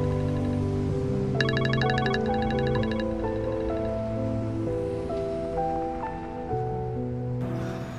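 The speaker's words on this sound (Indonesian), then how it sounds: "Sat, Mama seneng banget akhirnya kamu mau angkat telepon Mama" A phone ringtone plays a bright repeating melodic pattern over soft background music, steady and moderately loud.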